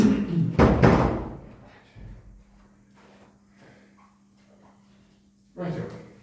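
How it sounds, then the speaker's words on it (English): A door is shut in a meeting room, giving a loud thud and rattle near the start and another solid knock toward the end, with quiet room noise and a faint hum between. "I'll shut the door, shall I?"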